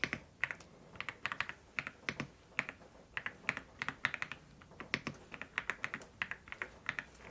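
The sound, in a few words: typing on computer keyboard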